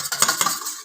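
Beaten eggs for a cabbage omelette being mixed in a bowl, a quick burst of a few close clinking utensil strikes and scraping strokes lasting under a second, with no voices.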